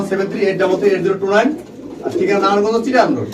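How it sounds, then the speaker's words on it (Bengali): Pigeons in a pigeon loft, repeated soft rolling coos close by in two phrases, with people talking nearby. "শিমলা চলে আসলাম আমাদের প্রাণপ্রিয় বাসার কাকার কবুতর লপটে"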